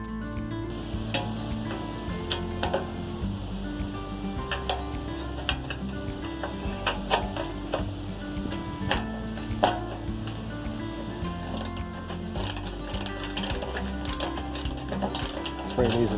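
A Stanley 9/16 socket on a ratchet turns a bolt on a boat trailer, giving steady clicking and mechanical ticking throughout, with background noise and occasional louder knocks.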